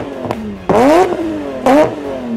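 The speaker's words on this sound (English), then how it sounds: "This resulted in a sporty and aggressive exhaust sound" BMW E34 M5 engine blipped twice, two sharp rising revs with a raspy exhaust note between steady idle, close and loud.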